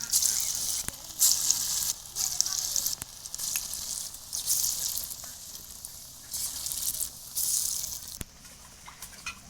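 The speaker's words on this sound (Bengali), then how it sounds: "এবার আমি একে একে পকোড়াগুলো ভেজে নেবো" Puffed rice pakoras sizzle steadily in hot oil in a kadai, a bright continuous crackle with brief pauses and small surges as pieces are added, close and fairly loud with no talk.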